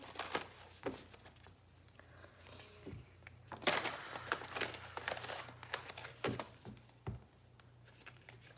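Tarot cards being shuffled by hand, giving soft, quiet riffles and crinkly slaps in uneven bursts, close up, with a low background hum between them.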